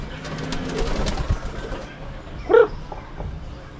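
Soft pigeon coos over a low background hum, with one brief louder burst near the end; no one speaks.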